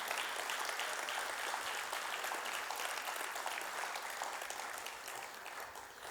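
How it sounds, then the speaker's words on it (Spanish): An audience claps in a steady, dense wash of applause for several seconds, tapering slightly at the end, with no voices over it. "¿Puedes darle un fuerte aplauso?"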